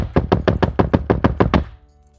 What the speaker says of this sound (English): I will knock on your motherfucking door.